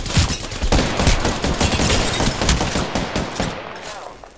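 Sustained automatic gunfire in the Apex Legends video game, dense rapid bursts of shots rattling loudly and continuously, close up, with a faint voice beneath.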